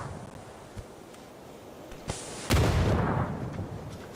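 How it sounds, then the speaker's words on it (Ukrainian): A grenade goes off in a video game as one loud, broadband blast that lingers and decays over a couple of seconds, following a few faint clicks and a short hiss of quieter game sound beforehand. "Гранату кинув. И слива граната."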